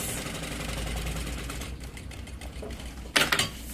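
A sewing machine stitches along the edge of a fabric lining for a double baby-bottle holder, a steady close whirring hum that slows near the end before a brief clatter of handling.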